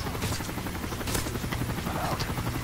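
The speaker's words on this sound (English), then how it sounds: "The helicopter's on its way." A helicopter approaches in Call of Duty: Modern Warfare 3, its steady rotor drone running through the whole moment amid busy game noise, with brief sharp bursts layered on top.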